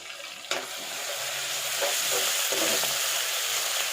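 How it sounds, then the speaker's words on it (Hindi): Garlic paste sizzles and spits steadily in hot oil, with a couple of scraping stirs, close and fairly loud, no talking. "इसको थोड़ा सा हम फ्राई करेंगे जब तक कि लहसुन की थोड़ी खुशबू जो है वो ख़त्म ना हो जाए"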